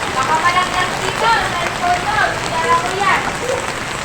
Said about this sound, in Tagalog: Yung ulan